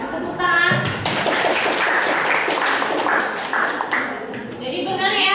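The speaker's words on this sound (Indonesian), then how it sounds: "Kasih tepuk tangan." A classroom full of students applauds in a dense, steady patter of claps that fills the whole stretch, with voices mixed in underneath.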